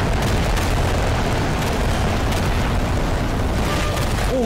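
Continuous rumbling blasts and crackling debris from a bomb explosion in Garry's Mod fill the whole stretch, loud and dense with no talking.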